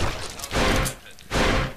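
Gunfire in the video game S.K.I.L.L. Special Force 2, two loud broad bursts of shots about a second apart, the second ending the short stretch, with a voice faintly present.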